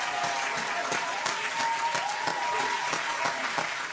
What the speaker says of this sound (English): Gotta give him another round of applause